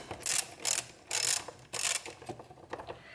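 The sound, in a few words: loosening a hose clamp during car intake installation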